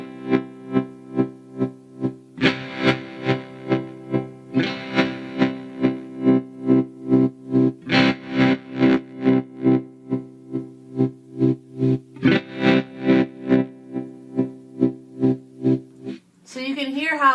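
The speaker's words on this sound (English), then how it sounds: "you can hear how moving that blend knob changes sort of the middle of the tremolo wave" Electric guitar chords played through a Chase Bliss Ayahuasca pedal with tremolo set to sine waves, the sustained tone pulsing in a steady rhythmic throb at moderate speed, loud and close, with a brief different effect sound at the end.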